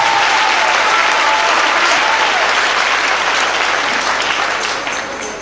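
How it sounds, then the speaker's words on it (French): A large congregation at a thanksgiving gathering in a prayer camp in Benin breaks into loud, sustained applause, a thick wall of clapping that carries on without pause and tapers off slightly at the very end. "Je voudrais que tu acclames le Seigneur pour cela."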